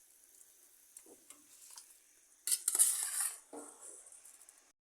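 Soaked rice poured into a pot of boiling water, a short rushing patter with a burst of clatter midway, joined by faint clinks of a metal pot and utensil, no voices.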